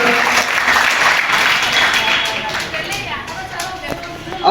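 Loud, sustained applause from a crowd of students and attendees at a school event, steady clapping filling the whole stretch without a break.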